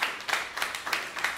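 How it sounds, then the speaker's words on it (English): Applause from a live wrestling podcast audience in Scranton, heard as a light, fairly distant patter of clapping with a few sharper claps standing out, brief and with no talking over it. "It's good for the podcast to get a round of applause."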